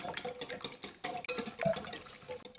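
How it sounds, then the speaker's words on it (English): Three eggs are whisked together in a bowl, a quick, steady run of soft rhythmic taps and wet swishing, close and fairly quiet, with no one talking. "It calls for 3 eggs, and we'll whisk those together"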